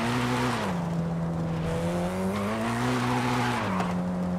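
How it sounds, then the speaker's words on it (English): A turbocharged car in Forza Horizon 5 drives with a steady, loud engine drone, its pitch dipping and climbing through gear changes with a faint whooshing edge, close and continuous without pause. "this car does feel quicker because it has a turbo"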